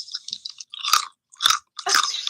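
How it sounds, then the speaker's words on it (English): Almonds chewed close to a microphone, three or four loud crunching bursts separated by short silences. "maybe you heard me chewing?"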